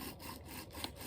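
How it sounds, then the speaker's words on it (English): A wooden bow drill is worked back and forth to start a fire, giving a steady rhythmic rasping friction with several quick strokes, close and fairly quiet. "Keep that bow drill rolling."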